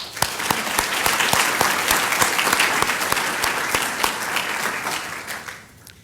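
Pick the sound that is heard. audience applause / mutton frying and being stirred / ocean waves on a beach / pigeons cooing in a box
audience applause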